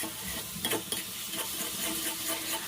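Egg bhuna ingredients with salt fry and sizzle in a pan, a steady close sizzle broken by a few sharper scraping stirs, with no voices.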